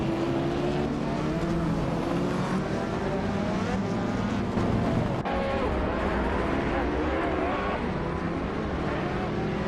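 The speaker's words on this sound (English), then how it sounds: "the race is underway at Blackwood Rallycross" Rally cars roar around Blackwood Rallycross in a racing video game, including a 1993 Lancia Delta HF Integrale, a continuous loud blend of revving engines with shifting pitch and no pause.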